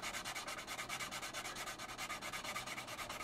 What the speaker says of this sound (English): I like to go with this coarse, the coarser side, then go to like the medium grit like I am now.